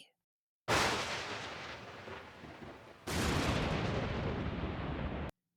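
Two heavy rumbling thunderclaps from a thunderstorm sound effect in an Ukrainian-language audiobook, each booming in abruptly and rolling on loudly for a couple of seconds, the second one cut off sharply.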